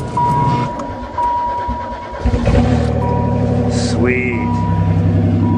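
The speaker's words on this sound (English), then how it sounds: "see if we can get that old Chevy dump truck running with the 427" A 1979 Chevy dump truck with a 427 engine cranks in winter, then catches and settles into a loud, rumbling idle close by, while someone briefly speaks.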